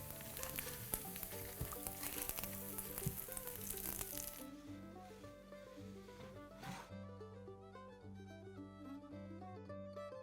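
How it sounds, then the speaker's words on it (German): A vegan fish burger patty coated in corn breadcrumbs frying in hot oil, a steady close sizzle under music with tonal notes, the frying loud at first and then quieter. "Und dann kommt es ins heiße Öl."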